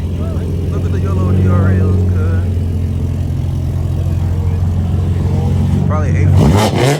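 A BMW 840 drives past at a car meet, its low engine drone steady beneath people chatting nearby, then swelling into a louder, rising roar toward the end.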